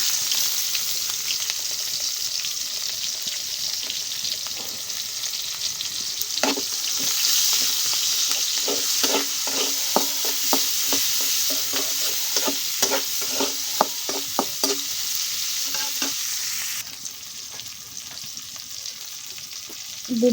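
Onion and chili fry in oil in a wok, a steady hot sizzle with a run of rhythmic spatula scrapes and stirring clacks, quieting toward the end, with no talking.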